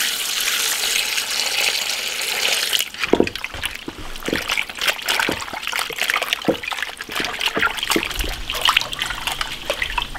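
Water runs steadily for a few seconds while pork intestines are washed, then gives way to wet sloshing, dribbling and soft knocks as the intestines are rinsed by hand, with no talking.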